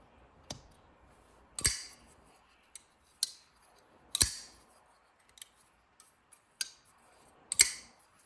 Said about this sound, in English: Very cool sound on the opening and closing